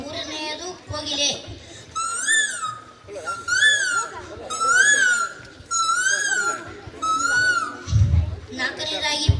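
A person imitates a cuckoo's call with a series of rising, whistled two-note hoots. About seven evenly spaced calls are delivered close and clear at a school talent show, with brief vocal sounds around them.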